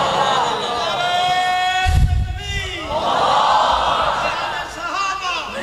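A large crowd at a religious political speech in Dera Ghazi Khan, Pakistan, roars chanted slogans in loud unison bursts, rising and falling in waves with a heavy thump near the middle, voices blending into a shouted chorus.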